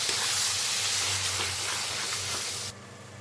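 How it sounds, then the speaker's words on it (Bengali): Spice paste with dried chilli powder and turmeric being fried in a pan for chicken, giving a loud, continuous close hiss that cuts off sharply near the end. "এবার আমি মশলাটাকে কষিয়ে নেব।"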